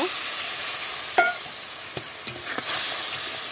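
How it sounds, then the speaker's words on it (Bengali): Masala with coriander powder is stirred and fried in a pan over a constant close sizzle, broken by a few sharp spatula scrapes and knocks. No voices are heard. "এবার এটা দিয়ে ভালো করে নেড়ে ছেড়ে মশলাটাকে আর একটু আমি কষিয়ে নেবো"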